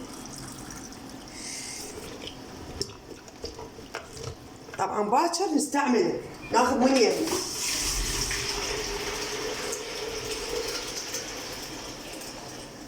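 Water is poured from a container over red pickles in white vinegar with garlic, a splashing, gurgling pour rising in the middle of the clip, with someone speaking just before.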